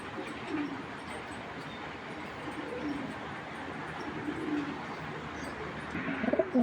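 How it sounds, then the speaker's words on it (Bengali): Pigeons, including an old breeding bird, coo softly at a distance over a low background rumble, and there is a brief fluttering bustle near the end. "এই যে দেখেন 2014-র কবুতর এখনও ব্রিডিং"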